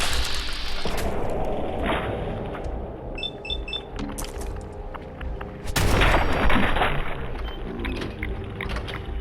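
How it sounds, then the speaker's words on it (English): A missile launches and explodes indoors in Fallout 4, a sudden loud blast breaking through rumbling gunfire and game noise, followed by a sustained roar of debris and echo. "Let's not shoot a missile in here"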